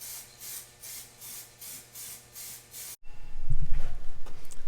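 A spray can lays the last coat of paint on a Jeep TJ door in about eight even, rhythmic hissing passes. The spraying then stops and gives way to louder, low handling noises.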